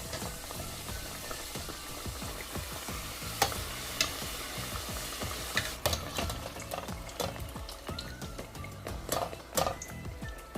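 Pastel dough made with tomato frying in very hot oil, a dense close-up crackle and sizzle with scattered sharp pops and spatters throughout, no voices.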